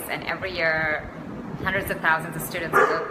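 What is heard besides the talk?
dog barking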